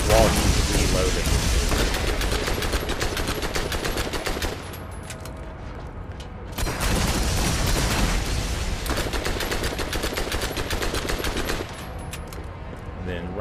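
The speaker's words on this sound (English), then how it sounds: "His weapon fires a burst of about 5 to 6 rounds, and then he takes about 5 seconds to reload." Baron Flynt's gun in Borderlands fires repeated rapid bursts of gunfire, loud and dense, with a brief lull around the middle before the shooting resumes; background game noise runs throughout.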